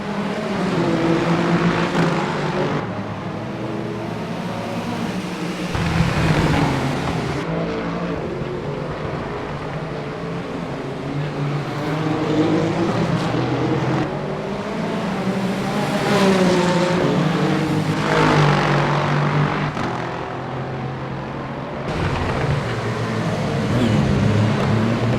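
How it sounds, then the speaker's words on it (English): Peugeot and Ferrari hypercars race in Le Mans Ultimate, their engines droning loudly and continuously with rising and falling pitch as the cars pass and shift gears, with no talk over them. "Here is a Peugeot, and I believe that is a Ferrari behind him. These are the hypercars."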